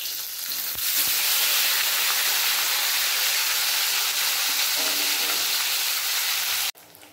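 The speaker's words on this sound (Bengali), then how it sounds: "চার পিস মাছের তেলের মধ্যে দিয়ে দিয়েছি, ভালোভাবে মাছগুলো ভেজে নেব।" Pieces of rohu fish frying in hot oil, four of them, giving a loud, steady, dense sizzle that holds evenly throughout before cutting off abruptly near the end.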